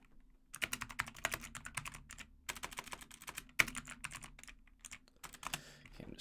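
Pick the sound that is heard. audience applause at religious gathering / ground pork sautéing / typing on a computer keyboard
typing on a computer keyboard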